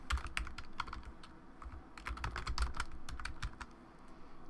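Rapid, irregular keystrokes on a computer keyboard while entering text in Photoshop Elements, close and fairly quiet, alone with no talking.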